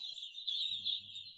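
Poultry-farm chickens fill the background with a faint, constant chorus of clucking and chatter, joined near the end by a low rumbling murmur.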